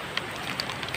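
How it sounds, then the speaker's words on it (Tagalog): Heavy rain falling outdoors, a dense, constant hiss with scattered drop patters, close and steady. "Grabing ulan guys."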